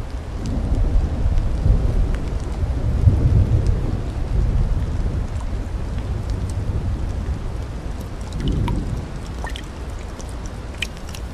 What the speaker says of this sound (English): it's just rained and thundered after several days of extremely hot weather